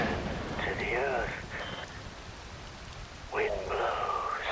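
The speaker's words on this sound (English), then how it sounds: "Rain falls." Steady rain hisses across the scene in the video game Metal Gear Rising: Revengeance, a constant broadband wash beneath a voice that speaks over it throughout.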